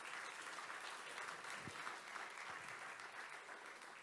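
A conference audience gives panel speakers a warm, even round of applause, a close, continuous patter of many hands lasting several seconds with little talk over it.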